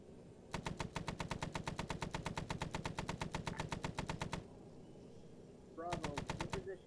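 Sustained machine gun bursts from a helicopter door gun in a combat video game, a long rapid rhythmic volley, a pause, then another short burst, loud and close.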